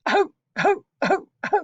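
A voice imitates a child's barky, seal-like cough with four short, harsh bursts evenly spaced, close and loud with silence between.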